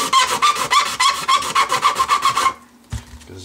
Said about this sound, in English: notice how I'm using the rat tail to reestablish the radius